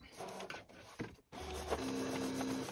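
A Brother ScanNCut machine cuts stamped card images, giving a close mechanical whir with short motor stops and starts, then a steady hum and a faint tonal whine.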